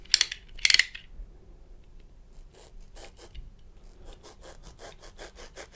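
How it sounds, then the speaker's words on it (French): Foam being cut for tool-organiser modules, two sharp scraping strokes up front, then a series of quieter, rhythmic rasping cuts, close up with no talk. "Ensuite on découpe notre mousse."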